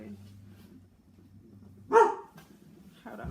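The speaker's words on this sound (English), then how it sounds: "My dog don't like nobody walking past our house." A house dog gives a single sharp bark at people walking past outside, then a shorter follow-up yelp, close by against a quiet room with a faint low hum.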